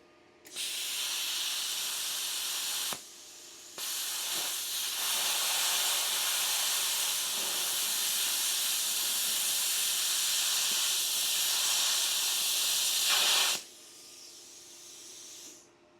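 An ANDELI plasma cutter set to about 30 amps cuts through half-inch rebar with a loud, steady, close hiss of air and arc lasting about ten seconds, broken by one brief pause before it stops.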